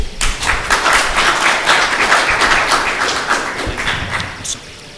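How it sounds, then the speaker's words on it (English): An audience at a Moi University student association debate applauds steadily for about four and a half seconds, a dense wash of many hands clapping, moderately loud and fading out at the end with no talk over it. "A round of applause from the audience."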